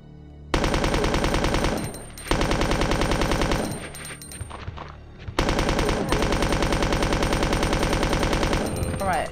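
Rapid automatic gunfire at zombies in Resident Evil 2, loud, close bursts of rattling shots with a brief lull midway before firing resumes, a voice faintly underneath.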